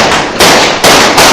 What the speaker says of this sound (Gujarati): અમને થોડીક વાર અહીંયા ફટાકડા ફોડવા છે